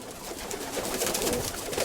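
A very young pigeon gives soft, repeated squeaky peeps and coos at close range, with light rustling underneath and no talking.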